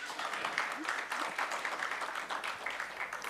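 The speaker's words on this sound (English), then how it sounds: "So one clap or more claps?" Applause from an audience at a business networking event, a fairly faint, even patter of many hands clapping that carries on steadily throughout without any talking.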